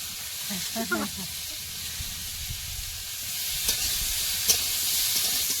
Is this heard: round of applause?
no